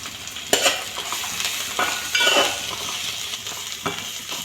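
Onions with salt and turmeric frying in a pan for a fish curry, giving a continuous close sizzle broken by several sharp spatula clacks and scrapes as they are stirred.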